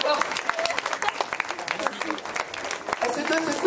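Audience applause at a cabaret evening show, steady dense clapping from a crowd for several seconds, fairly loud and continuous with scattered voices mixed in.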